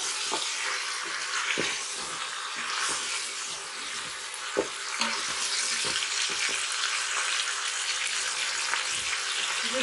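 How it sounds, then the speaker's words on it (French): Chicken thigh browning in a pot on a strong browning setting for a chicken and carrot tajine, giving a steady close sizzle and crackle with occasional stirring clicks, no voices. "Le mode doré assez fort va me permettre, en fait, vous voyez, de bien dorer ma cuisse"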